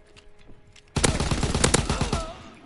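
Light machine gun fire in a World War II video game: a sudden loud, sustained burst of rapid automatic shots after a quiet start, trailing off over about a second and a half.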